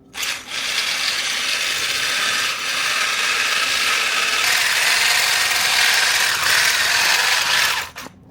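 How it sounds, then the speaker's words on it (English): An electric mixer whisks heavy cream for homemade cookies and cream ice cream, a loud, steady whirring drone that runs close and uninterrupted for about eight seconds, with no talking. "now it's time to whisk the heavy cream"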